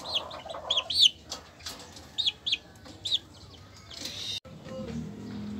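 Young Sebright bantam chickens, about six weeks old, cluck and chirp in short bright bursts close by, with quiet rustling between calls.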